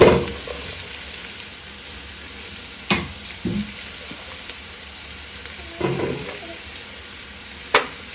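Onion and masala for chicken sauté in an oiled pan, a soft continuous sizzle with a few distinct scraping stirs spaced several seconds apart, close and without speech.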